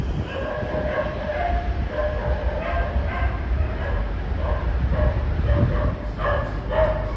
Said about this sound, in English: Found the dog room.